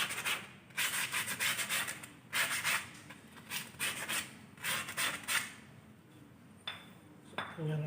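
Front disc brake pads being sanded with sandpaper during brake system servicing: repeated close, loud abrasive rubbing strokes in bursts with short pauses between them.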